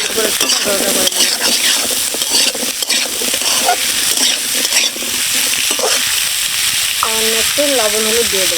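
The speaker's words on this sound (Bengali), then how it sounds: "আলুগুলো করে একটু ভাজা ভাজা করে নেব।" Potatoes fry in oil with onions, a loud close sizzle and crackle with frequent spatula scrapes and clinks, and a short spoken voice near the end.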